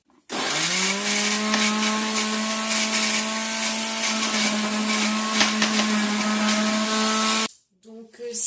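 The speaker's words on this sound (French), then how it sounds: "C'est parti pour le premier coup de mixeur." Electric blender whirring through a green vegetable gazpacho, a loud, steady motor drone that starts abruptly, holds for about seven seconds, then cuts off, followed by a brief softer clatter.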